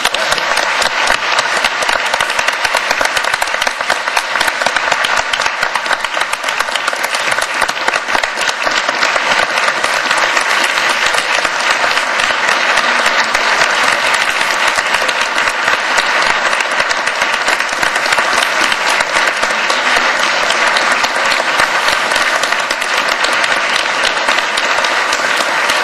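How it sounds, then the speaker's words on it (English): Sustained audience applause after a university discussion on God and philosophy, dense and steady from start to finish with no break, loud and close, no speech over it. "why don't we applaud him for putting on that?"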